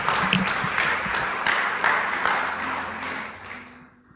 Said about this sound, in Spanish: ¿Puedes darle un fuerte aplauso al Señor?